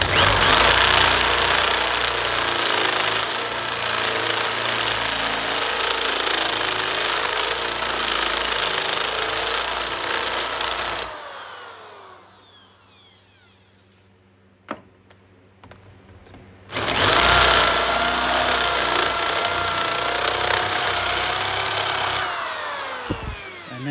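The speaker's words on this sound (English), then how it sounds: "it was a 1/4-inch piece of steel we're drilling through" A cordless power drill grinds loudly through a 1/4-inch steel plate for several seconds, stops into near silence with a faint clink, then starts boring again just as hard.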